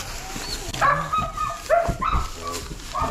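A dog whimpers and whines in short, high, wavering cries, repeated several times at close range, with a few yips mixed in.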